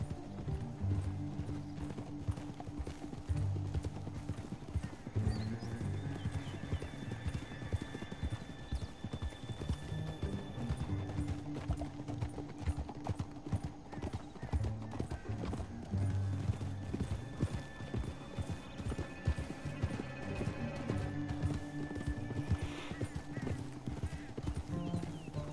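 Rapid, rhythmic hoofbeats of galloping horses in the video game Red Dead Redemption 2 continue throughout, with occasional whinnies and bits of talk mixed in over a busy background.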